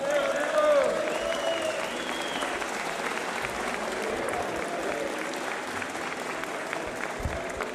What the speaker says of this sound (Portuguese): uma grande salva de palmas para o nosso presidente